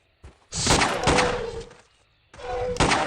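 Ruger pistol gunshots in the video game Trespasser, three loud sharp blasts with decaying tails, the first two close together and the third after a short pause.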